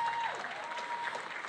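An audience at a county Teacher of the Year celebration gives the teachers a round of applause. The clapping is steady and dense from start to finish, with a faint tone sounding briefly at the start.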